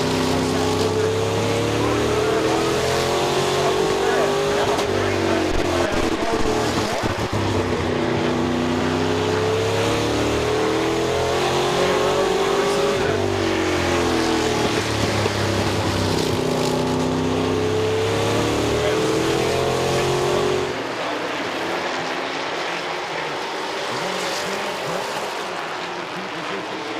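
Street stock race cars at Midvale Speedway's season-opening heat races: engines drone steadily and loudly, with an announcer talking over them, before the roar thins near the end.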